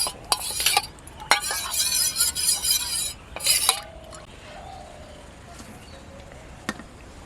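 Cornflour whisked into water in a bowl, bursts of brisk scraping and spoon-on-bowl clinking in the first few seconds, then quiet apart from a single click, close with no voices.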